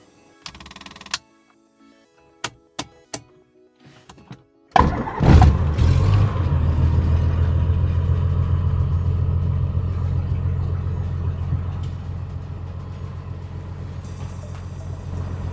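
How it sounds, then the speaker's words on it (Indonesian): A light aircraft engine starts up at an airfield ahead of taxi: a few clicks and short bursts, then a loud catch into a steady, close, rumbling idle that settles and holds. "kita mulai menyalakan mesin pesawat"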